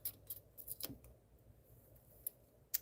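Scissors cut through paper while journaling, a few faint, quiet snips and crisp slicing sounds spaced irregularly, close but very soft, with no talking.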